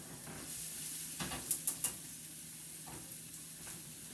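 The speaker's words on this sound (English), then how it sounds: "I can hear my onions cooking" Onions sizzle in plenty of oil over low heat for yellow curry noodles, a steady, faint hiss of frying with a few soft utensil clicks near the middle, close and without talking.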